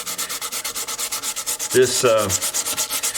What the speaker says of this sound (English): I've got to do a lot more sanding right there